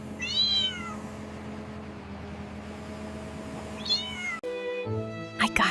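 A kitten lifted to safety by a lowered hook after a fall cries out with two clear, drawn-out meows, one at the start and another near the middle, over a low mechanical hum, with no talking.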